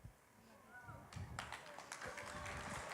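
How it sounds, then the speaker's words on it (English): Quiet room at a panel on Christian relationships; audience clapping starts after about a second and builds into a moderate patter of many hands, with voices mixed in. "We can clap for that."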